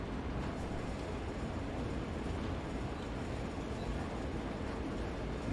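Train running in a train simulator video game: a faint, continuous low rumble of the moving train, steady and even throughout with no talk over it.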